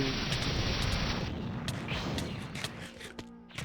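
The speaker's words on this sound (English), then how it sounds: "Kamehameha explosion!" A Kamehameha explosion in the Dragon Block video game roars as a loud, broad blast that thins out over a few seconds into scattered crackles and pops.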